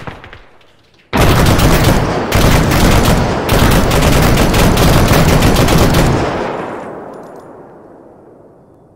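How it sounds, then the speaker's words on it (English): Loud, sustained automatic gunfire from an Arma 3 firefight, sprayed through a house wall, rattles in rapid bursts for about five seconds with short gaps, then trails off into a fading echo. "I'm gonna shoot through the wall."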